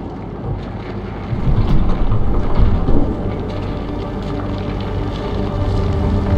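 Storm in the video game Fort Solis, a loud continuous low rumble of thunder and wind that swells in the middle and stays heavy throughout.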